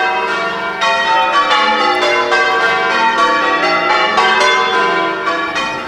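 Eight church bells in Bollington ring the changes for a final peal, overlapping loud, resonant strikes in a steady rolling sequence with long ringing decay, close and without voices.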